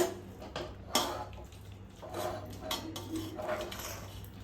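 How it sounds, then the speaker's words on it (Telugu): Curry pieces in gravy are spooned into a biryani pot, with a sharp metallic clatter of utensils against the pot followed by softer scraping and clinking, moderately close. "ఇప్పుడు మనం దీంట్లోకి ఫస్ట్ మనం కర్రీ ప్రిపేర్ చేసుకున్నాం కదా ఆ కర్రీ పీసెస్ వేయాలి"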